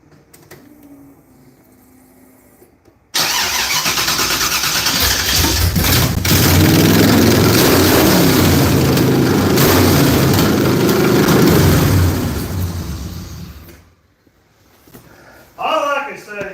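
A car engine with a loose header on the driver's side starts abruptly and roars at full throttle for about ten seconds, loud and steady, then cuts off, with voices faintly around it.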